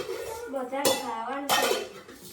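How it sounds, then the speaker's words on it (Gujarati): A metal pot of dal is stirred, its spoon clanking sharply against the sides twice over a background of speech. "હા તપેલી હલાય ભાઈ દાળની"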